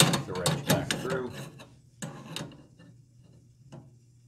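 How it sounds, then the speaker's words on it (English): A half-inch wrench works the pilot adjustment screws of a vintage Chambers Model C gas stove. Close metallic clicks and ratcheting scrapes come in quick bursts, then fade to a few faint taps over a low hum. "stick the wrench back through"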